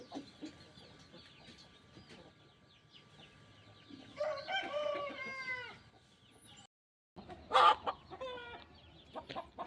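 Hens cluck and squawk in short bursts at close range, with a brief louder flurry near the end and quiet farmyard background.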